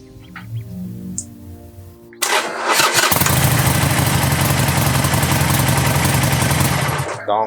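A motorcycle's electric starter cranks briefly after quiet talk, then the engine catches and settles into a loud, steady idle close by before cutting off at the end.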